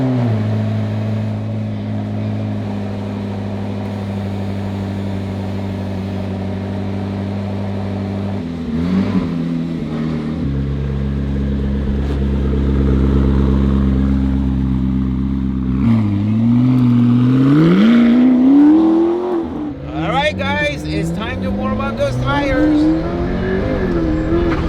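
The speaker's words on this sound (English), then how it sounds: "And the car should start. It's been on the trickle charger." A car starts up after sitting on a trickle charger, its engine settling into a steady idle and then revving a few times, loud and close, with people talking over it.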